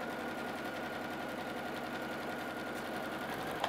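A sewing machine stitches quilt patchwork in an even, continuous whirring hum, faint and unbroken from start to finish.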